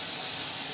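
Potato pieces frying in hot oil for a chicken curry, a steady close sizzle and hiss with no pauses.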